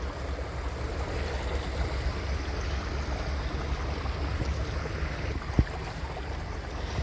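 River water rushes steadily over large stones, a dense, continuous broadband roar with no pauses, close and fairly loud, with one faint brief tap near the end.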